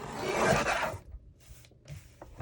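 Card paper being trimmed for a handmade spring card, a close rasping cut followed by a few short, quieter scraping strokes.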